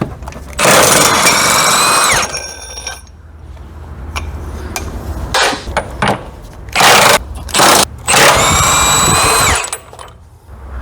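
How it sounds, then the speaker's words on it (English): An impact power tool unbolts the 21 mm hex subframe bolts on a Tesla Model S. It fires in several loud bursts of whirring and rattling, and short pauses separate them. "Now we're gonna go ahead and unbolt the subframe"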